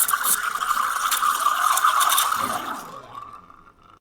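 An espresso machine steam wand hisses steadily while frothing milk for a cappuccino, a sharp airy rush with a high squealing tone that fades and thins toward the end.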